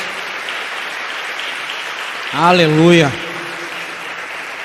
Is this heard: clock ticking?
no